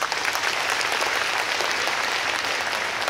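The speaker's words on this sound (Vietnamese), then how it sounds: "Chúng ta cũng tưởng thưởng cho người ấy một tràng pháo tay đi nào" A church congregation at a children's Christmas Eve Mass claps for a guest, a dense, loud, even burst of applause that holds steady throughout with no voices on top.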